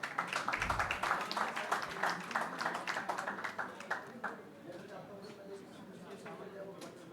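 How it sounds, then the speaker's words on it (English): Applause from an event audience for speaker Takuya Nakagawa at a logistics planning gathering, with dense clapping strongest in the first four seconds and then thinning to scattered claps. "A round of applause for Mr."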